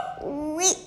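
A single dog's whine rising into a short yelp, close and fairly loud, with a brief word spoken just before it.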